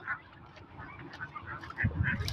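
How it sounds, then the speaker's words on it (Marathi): Ducks and turkeys feeding together on hotel food waste at a small poultry farm, with repeated nasal honking and quacking calls close by, steady bird chatter and a louder burst near the end. "हे बदक टर्की सगळे मिक्स होऊन खात आहेत हॉटेल वेस्ट"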